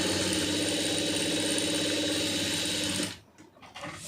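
A sewing machine stitches a blouse sleeve for a designer wedding blouse, running as a close, steady rapid whirr for about three seconds before stopping abruptly, leaving faint handling sounds.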